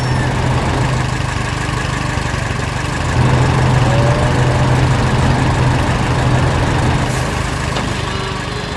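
A tractor engine runs in an animated setting, a steady, loud low-pitched drone that idles continuously and grows slightly heavier midway, with no break.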